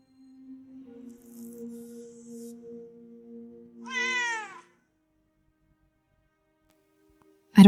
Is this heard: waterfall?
no